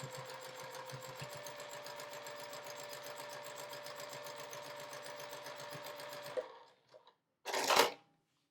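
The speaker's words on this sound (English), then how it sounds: "So I got my foot lined right up against that line, and I'm going to sew right across there." Sewing machine running a continuous fast stitching hum close up while sewing a quilt block seam, steady for about six seconds before stopping, followed by a short rustle of fabric.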